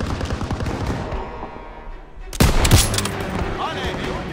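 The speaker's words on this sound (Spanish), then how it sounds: "¡Dispara las ametralladoras!" Machine guns firing in Call of Duty WWII during the Fortaleza mission: a murky rumble of distant battle gives way halfway through to a loud, close burst of rapid gunfire that keeps rattling to the end.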